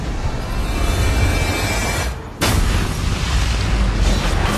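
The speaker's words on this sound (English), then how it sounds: "Destroyed a tower." A tower being destroyed in the video game Clash of Titans, a sustained loud roaring rumble that dips briefly and then resumes with a heavy booming crash.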